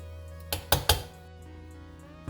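Restaurant-style chicken chow mein being served from a cooking pan into a dish, heard as three close metallic clanks of utensil against cookware over a low background hum, with no talk.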